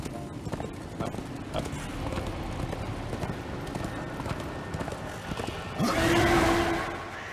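Horse hooves in Darksiders II clip-clop at a steady trot over game ambience, and a louder swell near the end that may be a whinny.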